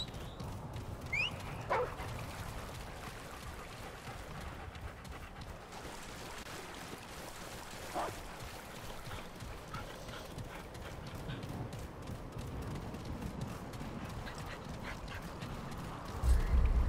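In the video game Remnant II, a dog companion barks faintly amid a low, continuous game ambience, along with scattered clopping and rustling effects. The sounds stay quiet and in the background, and no one talks.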